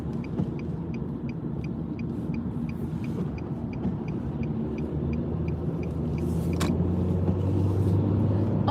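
A car rumbles past on a road, a low engine drone that grows louder toward the end over a faint background of repeating high tones.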